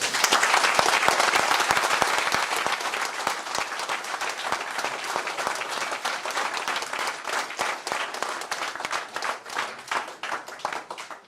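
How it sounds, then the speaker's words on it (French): Sustained applause from members and attendees at a municipal council installation meeting, welcoming newly elected social action councillors; dense, even clapping that gradually thins and grows slightly less intense over its length, with no talk. "On peut les applaudir tous."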